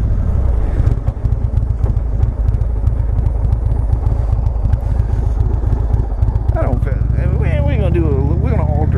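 Indian Chieftain Dark Horse motorcycle fitted with a 116 Stage-3 kit, its engine droning loudly and steadily while riding, with someone talking over it throughout.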